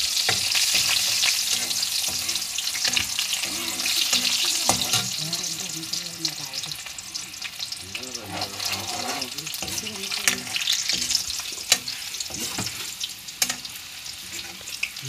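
Onions hiss and sizzle in hot oil in a pan while being stirred for a chicken gravy, a continuous close frying noise with scraping stir strokes and some clatter, and no talk over it.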